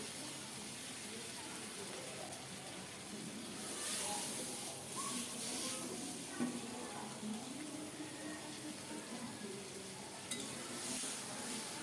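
Tengra fish sizzle with chopped onion in mustard oil, a steady, moderately quiet crackling hiss with soft stirring scrapes running throughout.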